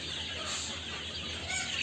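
Hens and young chicks in a poultry shed, around chick vaccination time, cluck softly and continuously over a steady background hiss, with no talking.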